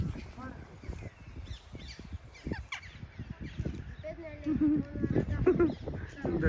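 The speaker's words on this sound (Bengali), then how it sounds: "কাক।" Crows caw in Richmond Park, London, with harsh calls rising over steady nearby talk across most of the stretch.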